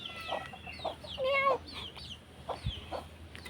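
Chickens clucking nearby in a home yard, with short repeated clucks and a louder drawn-out squawk in the middle.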